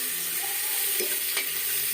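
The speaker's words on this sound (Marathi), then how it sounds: "इकडे कांदा परतायला टाकला मी कुकरमध्ये" Chopped onion sautéing in a pressure cooker while it browns, a steady broadband sizzle with soft scraping stirs, fairly close and even in level, with no talk over it.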